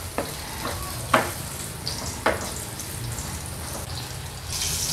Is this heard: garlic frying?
yes